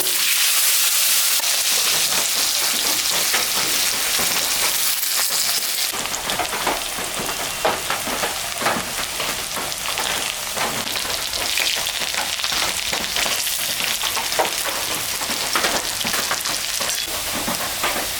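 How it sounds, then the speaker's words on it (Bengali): Potatoes fry in hot oil, left over from frying eggs, tempered with cumin and dried chilli, making a loud, dense, rain-like crackle and sizzle that runs unbroken and close throughout, with no speech. "এখন আমি আলুটা ভাজিয়ে দেবো"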